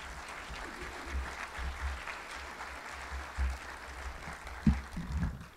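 Audience applause from a crowd at a symposium with Ron Paul, steady clapping across the hall with a few louder bursts near the end, no voices over it.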